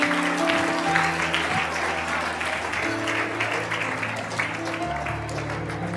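A church congregation at a night service applauds steadily, with a bed of clapping running under sustained musical tones and a voice speaking over it.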